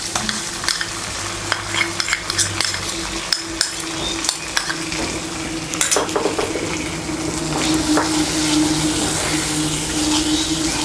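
Spoon scraping and stirring a Bengali spice mix blended with cashew paste and poppy seed paste in a pan for doi potol, with a soft sizzle and repeated clinks of utensil against metal throughout.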